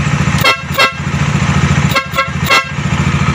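A loud aftermarket horn on a Kawasaki Dominar 400 motorcycle sounds four short, piercing toots in two quick pairs, close and sharp over the bike's steady idling engine.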